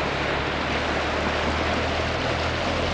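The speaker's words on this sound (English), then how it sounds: "it just looks like a small hole with thousands of gallons of water coming out of it" Acid mine drainage gushes from a small mine opening, a dense, continuous roaring rush of water, loud and close, with no other sounds breaking through.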